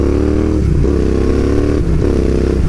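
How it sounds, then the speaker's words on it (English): A Royal Enfield Interceptor 650 motorcycle on a springtime ride, its engine droning loud and close throughout, with a steady low rumble and brief dips as the rider shifts. "So this is a bit of a springtime shakedown ride on the Interceptor."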